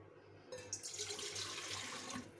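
Lukewarm water pours steadily from a tap into a mixer bowl for a Christmas bread dough, a continuous close splashing stream that starts abruptly and runs without pause, with no voices.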